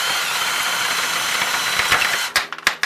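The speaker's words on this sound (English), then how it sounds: "But you just hold the drill at an angle and they'll come." A power drill drilling out rivet nuts on a Can-Am Maverick wheel well whines steadily, then breaks into a few short bursts and stops near the end.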